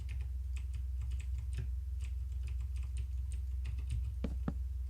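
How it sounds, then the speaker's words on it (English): Loud computer keyboard typing, with a rapid, uneven patter of close, crisp key clicks running steadily throughout, no voices. "Sorry if you can hear my keyboard. It's a bit loud."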